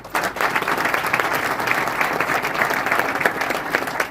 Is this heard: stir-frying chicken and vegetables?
no